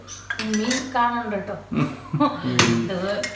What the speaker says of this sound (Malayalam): ഗ്ലാസ് എടുക്കാം